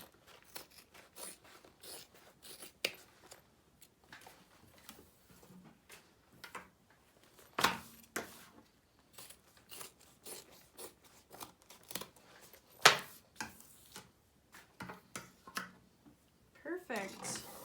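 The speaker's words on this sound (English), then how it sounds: "I'm just gonna go ahead and trim all that off." Scissors trim excess fabric from a handbag's zippered pocket: quiet, scattered snips and rustling cloth at close range, with a few sharper, louder cuts spread across the stretch.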